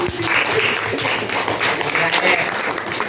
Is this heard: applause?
yes